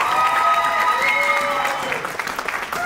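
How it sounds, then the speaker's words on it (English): An audience at a student live event applauds and cheers, a dense, loud wash of clapping that fades slightly toward the end. "Give it up for Mal one more time"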